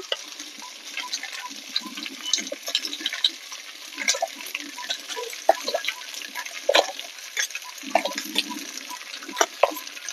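Potatoes, stems and pumpkin fry in a pan with ginger and green chilli paste, giving a steady close sizzle broken by frequent scraping and stirring clatters.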